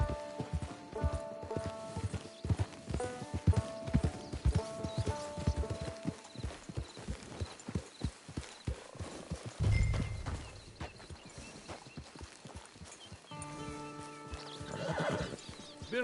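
Horse hooves clip-clop steadily with a horse neighing partway through in Red Dead Redemption 2 Online, game-like ambience and music underneath.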